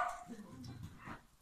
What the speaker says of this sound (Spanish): No se ladra a otros perritos.